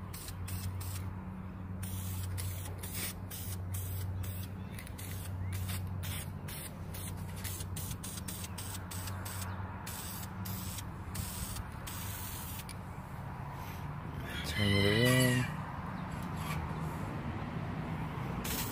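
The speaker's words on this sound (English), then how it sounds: "take my can of etching primer right here" A spray can of etching primer hisses in short repeated bursts onto scrap metal art, steady and close, with a rattly mechanical chirp near the end.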